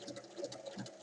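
Sewing machine stitching the side seams of a bag's lining, a close, steady mechanical whir with a rapid stitching rhythm throughout the brief moment, no voices.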